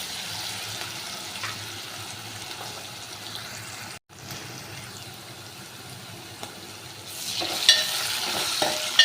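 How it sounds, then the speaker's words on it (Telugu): Onions frying in a pan as the base for a brinjal curry give a steady, close, even hiss of oil that cuts out for a moment, then grows a little louder and busier near the end, with no voices. "ఆనియన్స్ అయితే ఫ్రై అయ్యాయి ఫ్రెండ్స్."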